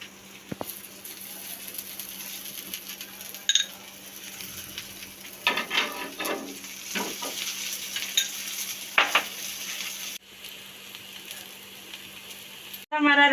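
A paratha frying in desi ghee on a pan, soft intermittent sizzling with spatula scrapes and light utensil clinks, close by, ending in a sharper clatter.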